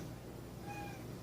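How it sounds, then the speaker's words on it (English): A cat gives a single short, faint meow in a backyard home-brewing setup, rising briefly over a steady background hum. "Cat in here."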